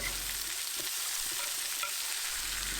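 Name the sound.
onions and peppers sautéing in oil in a pan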